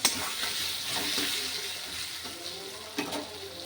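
Fish curry with fried potato and drumsticks, made from fresh rohu and cooked without onion, is stirred in a pan, giving a steady sizzle with scraping strokes and a couple of sharper clinks, close and moderately loud.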